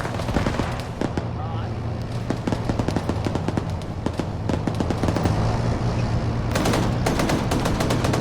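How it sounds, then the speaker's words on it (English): In a tank battle game, a .50 cal machine gun rattles in rapid sustained bursts at a tank amid other gunfire and explosions, with someone talking over the shooting. "So the 50 cal manages to actually shoot the gunner out"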